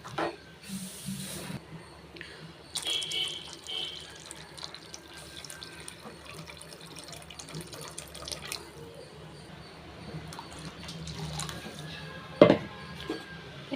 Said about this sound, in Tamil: இப்போது நம்ம புளி கரைச்சி அந்த தண்ணியை ஆட் பண்ணிடலாம்